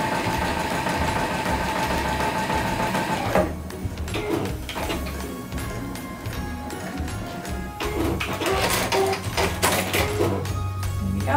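A sewing machine runs steadily, stitching slippery fabric for a reusable Christmas cracker, with a continuous mechanical whir and a brief pause partway through before the motor picks up again.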